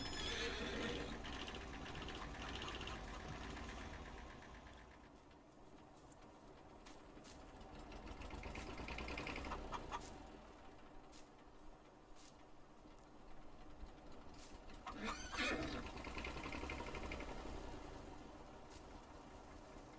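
A horse neighs in the Farming Simulator 19 farm game, a shrill whinny rising out of a steady low engine drone, with a second, brighter call around the middle and a sharp burst near the end.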